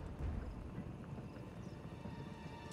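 Horses gallop in the Total War Saga: Thrones of Britannia strategy game, a dense, steady drumming of hooves that sounds distant and fairly faint, continuous for a few seconds with no talk.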